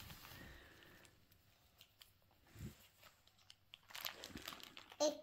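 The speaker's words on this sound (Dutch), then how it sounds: "Gewoon open scheuren. Papier." A child tears open paper wrapping with scattered crinkles and rips, building into louder crumpling bursts toward the end, close by in a quiet room.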